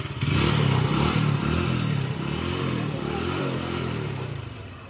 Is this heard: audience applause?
no